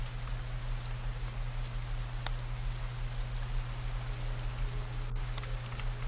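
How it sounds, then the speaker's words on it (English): Steady rain falling on a surface, a constant hiss with scattered drop ticks, over a low hum. "The rain was still here."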